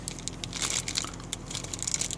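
A plastic bag holding a silicone cover for a Starline car alarm fob crinkles during unpacking, with close, irregular rustles and crackles throughout.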